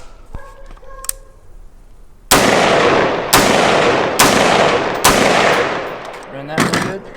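An AR-15 rifle firing .223 and 5.56 military green tip rounds, four or five loud, sharp shots spaced about a second apart, each with a ringing outdoor tail, after some quieter handling clicks.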